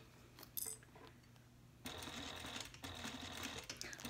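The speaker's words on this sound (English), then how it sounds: "I am sewing, as you probably know, on my Juki 8700" A Juki 8700 sewing machine stitches a metal zipper at about a 3.25 stitch length, a brief pause followed by a steady, close, loud mechanical whir from about two seconds on, with small clicks and no talking.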